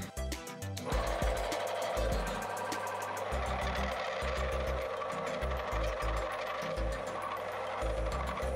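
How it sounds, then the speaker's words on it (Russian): A lathe turns a cone on an antique cannon barrel, giving a loud, steady mechanical whir with rhythmic knocking that pulses throughout, close up and with no talk. "Вытачиваю конус."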